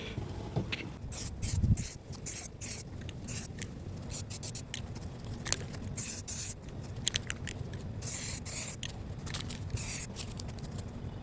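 A spray can sends primer onto a Nissan S13 valve cover in short hissing bursts of varying length separated by quiet gaps, close by and without talking.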